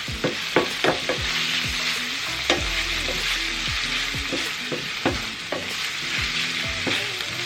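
Bacon lardons crackle and sizzle steadily in a hot pan, with a utensil scraping and stirring through them in repeated close strokes over a constant frying hiss.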